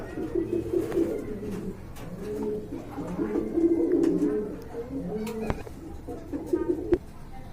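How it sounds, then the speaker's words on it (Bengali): A pair of khaki pigeons coo softly and repeatedly up close, their low rolling calls overlapping and continuing through the clip, with a couple of sharp knocks and faint background noise. "বন্ধুরা এইখানে এক জোড়া খাকি কবুতর দেখতে পাচ্ছেন"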